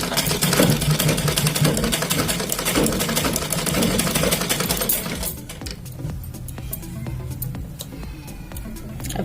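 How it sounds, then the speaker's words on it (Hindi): A sewing machine stitching a drawstring onto a baby cap, a fast, steady mechanical whirring close by that softens and becomes more intermittent partway through. "इस तरह से इसमें भी हम सिल देंगे।"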